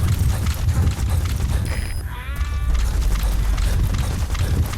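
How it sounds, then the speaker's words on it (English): Gunfire in the video game Metal Gear Solid 5: The Phantom Pain shows up as repeated sharp cracks over a rumbling vehicle. A brief whistling tone breaks in midway. "I hear gunshots."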